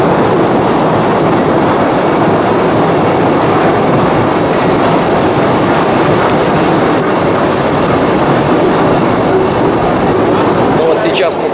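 A tourist train rolls through a cave in Slovenia, its loud continuous rumble and clattering wheels filling the space steadily, with a faint squeal near the end.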